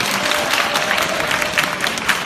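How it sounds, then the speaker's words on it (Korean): Wedding guests at a Korean ceremony applaud steadily, a dense, even patter of many hands clapping close by for the whole stretch with no talking. "여러분 박수 한번 부탁드립니다."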